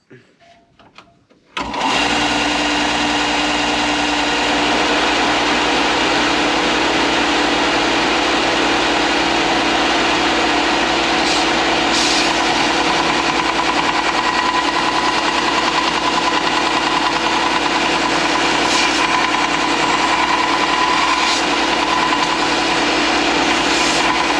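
A Bauer belt sander starts up and runs steadily, grinding the corners of a 1/8 inch metal plate, a loud continuous buzzing whir after a brief quiet start.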